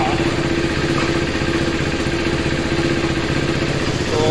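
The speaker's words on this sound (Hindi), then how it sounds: "तो बाइक चालू हो चुकी है।" A KTM RC 390 motorcycle idles after sitting unused for a month, its engine a loud, steady, close mechanical drone with light clatter that never changes pitch.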